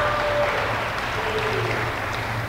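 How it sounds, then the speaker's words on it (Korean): A church congregation applauds its preparation committee at a church festival service, steady diffuse clapping throughout the short stretch with a low hum underneath. "준비위원들 수고하심에 대해서 박수로 감사를 표하겠습니다."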